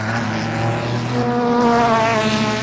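Ferrari 296 Challenge race car, a track-only machine built with GT3 parts, buzzing past on the circuit with a high rising whine and a loud, steady engine tone that swells slightly as it goes by.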